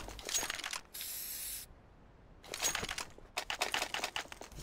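A graffiti spray being applied in the shooter game CS:GO, de_mirage map: a loud steady hiss lasting under a second, amid clicky keyboard-like tapping and other bursts of game noise.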